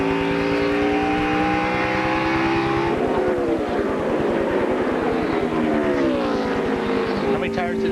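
NASCAR stock cars roar around the track in traffic, a loud continuous engine drone with shifting pitch as cars pass, heard from a radio broadcast under commentary.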